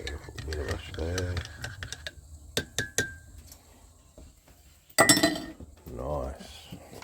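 A spoon stirs milky coffee in a cup aboard a houseboat on the Murray River in South Australia, giving a few close, light metallic clinks between stretches of a man's speech.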